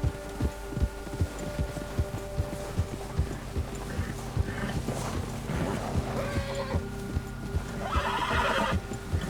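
A horse in Red Dead Redemption 2 whinnies over steady hoofbeats and a low throbbing hum, the neighs rising and falling against a busy, rhythmic game soundtrack.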